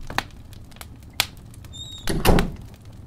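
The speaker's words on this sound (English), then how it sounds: "Close the door, why don't you?" A door in an old hallway is pushed shut, with a few light knocks and taps before a heavier muffled thud and rattle as it closes, heard close and alone.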